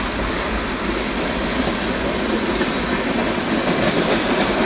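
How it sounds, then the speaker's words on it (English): A long freight train rumbles steadily past close by along Lake Erie, wheels clattering in a continuous loud roar with no voices. "I didn't expect this train to be this long."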